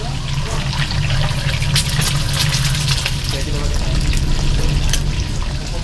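Sizzling and crackling of mackerel frying in a pan, with bursts of spattering, close by and continuous.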